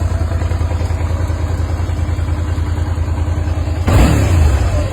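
Close by, a Suzuki SV650 motorcycle on its stock exhaust idles with a steady low throb, then is revved sharply near the end, the engine note rising loud and rough.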